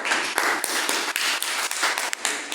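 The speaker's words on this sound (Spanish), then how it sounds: "Aplausos, por favor." A workshop audience on bullying applauds, a dense patter of many hands clapping steadily at moderate level for a couple of seconds, with no voices over it.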